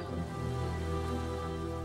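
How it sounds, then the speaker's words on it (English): Steady rain falling in mountain woods, a dense continuous hiss of drops that stays even and close throughout with no other sounds. "It began to rain."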